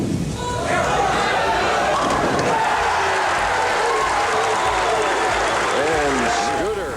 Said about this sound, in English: you'll hear them chanting Scoot